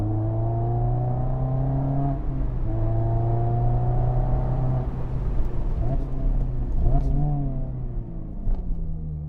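A Mazda Miata two-seat sports car drives along a winding serpentine road. Its engine drones steadily from close by, with the pitch climbing and dropping through several gear changes and throttle lifts.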